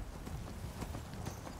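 Horse hooves clip-clop in a quick, even rhythm across a fantasy landscape in Skyrim, steady and moderately near over a constant background wash, with no talking.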